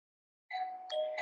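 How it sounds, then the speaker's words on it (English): An electronic doorbell chimes a few clear tones in quick succession after a moment of silence, close and moderately loud. "So my doorbell's going off, getting a package."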